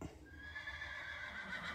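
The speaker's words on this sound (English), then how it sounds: "Neigh, said a horse." A horse gives a drawn-out neigh, a faint whinny held for under two seconds over a low background rumble, with no talking.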